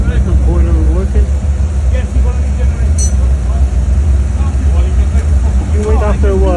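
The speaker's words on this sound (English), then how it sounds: "This is the thermostat. The boiler working." Hot box pressure washer with its boiler running, a loud steady low mechanical drone filling the space while a person talks over it.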